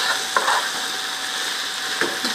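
Okra and onion with spices frying in a pan, giving a steady, bright sizzle with a couple of soft stirring clicks, alone and close.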